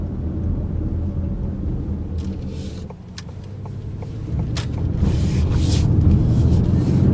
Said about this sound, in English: giving it some hard acceleration through that left turn